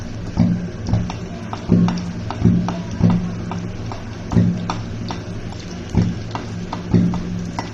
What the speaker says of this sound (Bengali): তেলটা গরম হয়ে আসলে এবার আমি পুরিগুলোকে এর মধ্যে দিয়ে দেবো একটা একটা করে পুরি ভেজে